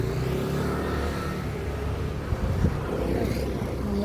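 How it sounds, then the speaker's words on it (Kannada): A car engine rumbles steadily as the vehicle is driven out through a gate, a low continuous drone with wind buffeting the microphone and a few soft thumps. "ನಮ್ಮರು ಗಾಡಿ ತೆಗಿತಾ ಇದ್ದಾರೆ"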